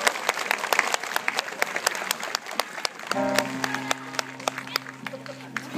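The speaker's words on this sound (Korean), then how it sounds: "큰 박수 한번 보내주시기 바랍니다." A concert audience applauds, a crisp scatter of clapping hands at close to moderate distance, with a low sustained musical tone entering midway beneath the claps.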